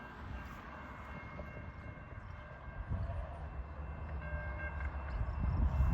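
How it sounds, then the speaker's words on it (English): A westbound Norfolk Southern intermodal train passes at a grade crossing on State Route 13, with a steady low rumble that slowly builds louder over six seconds and faint horn-like tones above it. "This is a westbound train."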